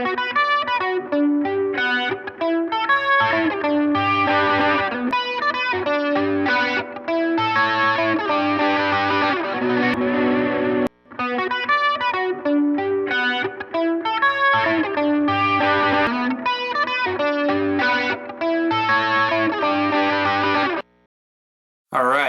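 A gritty, distorted electric guitar amp plays chunky riffs and chords, recorded close with RE20 and RE320 microphones; loud and continuous for about twenty seconds with one brief break midway and a short gap near the end.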